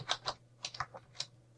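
Typing on a computer keyboard: about eight quick, irregular keystroke clicks, close and quiet, with no talking.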